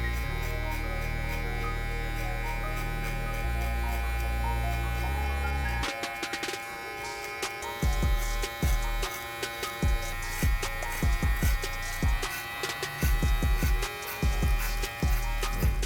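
Electric hair clippers buzz steadily through curly hair during a self-cut fade, a constant close hum that turns choppier partway through as the blades bite into the curls.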